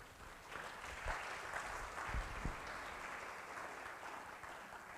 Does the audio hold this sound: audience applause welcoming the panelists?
yes